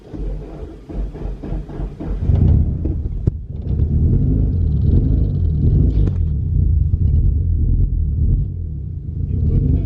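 Car engine with a pipe left disconnected cranks and catches after battery trouble, then settles into a loud, close, throbbing idle rumble that runs steadily to the end.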